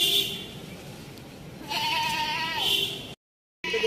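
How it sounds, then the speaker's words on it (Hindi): A male goat bleats outdoors at sunset in a drawn-out, wavering call, loud and close, with a second call broken off by a short silence near the end. "और नीचे बकरा फजूल ही बोली जा रहा है बे बे बे बे बे।"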